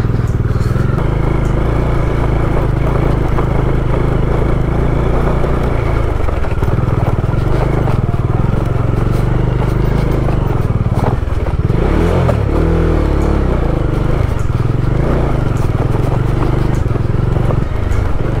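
A motorbike rides off-road on a rough monsoon mountain road in North Sikkim, between Gangtok and Lachen. Its engine drones loud and steady throughout, with rattling and clattering from the rough surface.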